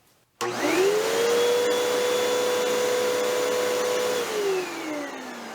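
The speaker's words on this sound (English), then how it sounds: "in the next test, we'll be powering up this 12 amp upright vacuum" A 12 amp upright vacuum cleaner switches on abruptly and its motor spins up to a steady, loud, close whine that holds for several seconds before winding down slightly, with no talking.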